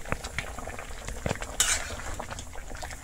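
A spoon stirs a village-style vegetarian bamboo shoot curry in a pot, giving repeated soft scrapes and clinks with one brighter clatter midway, over a low, steady simmer.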